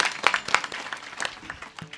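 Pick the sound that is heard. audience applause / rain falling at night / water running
audience applause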